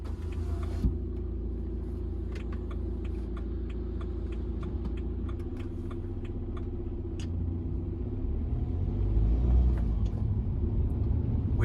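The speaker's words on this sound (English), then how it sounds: "I'm going to take it out for a drive, guys." A BMW 1 Series car on the move, heard from inside as a steady low engine and road rumble with faint ticking and rattles over about twelve seconds, swelling slightly toward the end; no talking.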